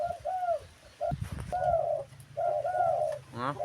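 A new decoy dove coos in a series of clear, rhythmic calls, close and fairly loud, with short pauses between phrases and a brief clatter of handling noise in between.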